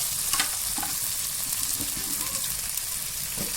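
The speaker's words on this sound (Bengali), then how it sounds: "এখন আমি মশলাটা কষিয়ে নিচ্ছি।" Ground spice paste of cumin, ginger and dried red chilli with salt and turmeric sautéing in hot oil for a katla fish curry, a dense continuous sizzle with occasional faint stirring scrapes, close and steady, no talking.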